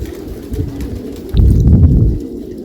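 Pigeons kept on a date farm in Saudi Arabia coo in low, throaty bursts, close by, swelling into a louder, denser stretch of overlapping coos midway before easing back down.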